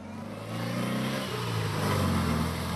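A 4-cylinder boxer engine with a Judson compressor in a rear-engined Porsche Beutler coupe revs steadily and rises in pitch, heard close and alone without voices.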